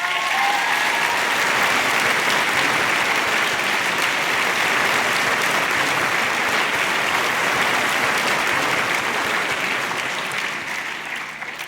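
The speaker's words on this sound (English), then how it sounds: "Give yourselves a round of applause" Sustained, dense applause fills a hall at a multicultural apprenticeship awards ceremony after a keynote speech, staying loud and steady for about ten seconds before easing slightly.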